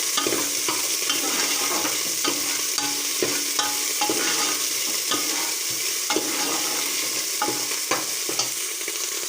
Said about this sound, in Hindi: इसमें लहसुन अदरक और हरी मिर्च का पेस्ट डाल देंगे।